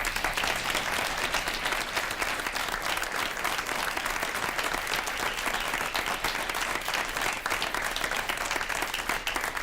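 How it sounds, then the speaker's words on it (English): Debate audience claps steadily to welcome the candidates, a continuous, even wash of applause from a fairly large crowd with no break across the whole stretch. "we've asked the audience to hold their applause throughout the evening, except for right now"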